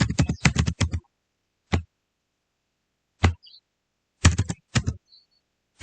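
Computer keyboard typing and mouse clicking while working in Excel, with short bursts of rapid keystrokes, isolated single clicks and quiet gaps between them, close and fairly soft.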